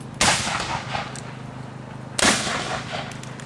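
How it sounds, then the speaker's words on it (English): Two loud, sharp musket volleys from historical black-powder firearms crack out roughly two seconds apart, each with a quick rolling echo that fades over open field ground. "once again they will give fire to their muskets."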